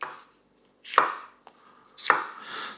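A Global kitchen knife slices through a chili on a cutting board, giving two crisp chops with a light tap between them, close and distinct in a quiet room.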